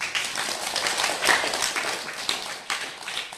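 A crowd at a Buddhist dharma talk claps in steady, dense applause for a few seconds, moderately loud and fairly even, with no voice over it.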